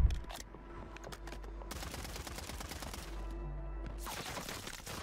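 SVA 545 submachine gun firing in Warzone 3, several loud rapid bursts of automatic shots separated by short gaps, close and punchy.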